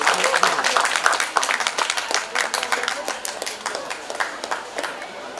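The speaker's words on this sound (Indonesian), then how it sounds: "Beri tepuk tangan yang meriah." An audience at an indoor parenting seminar claps steadily for several seconds in a dense patter of many hands that gradually thins out, with faint voices underneath.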